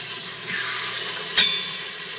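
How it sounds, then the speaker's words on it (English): Pork pieces sizzle in a hot Instant Pot in a boat's galley, a steady close hiss with one brief sharper crackle. "Gonna let that get going, get hot, and hear it sizzling."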